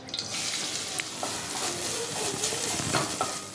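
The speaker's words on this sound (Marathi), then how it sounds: "तुपात मी खोबरा परतून घेतलंय" Grated coconut roasting in ghee in a hot wok, turned with a spatula: a near, steady crackling sizzle with soft scrapes throughout.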